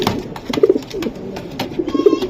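Racing pigeons cooing close by, several soft throaty coos in quick succession over a brief moment, amid faint rustling.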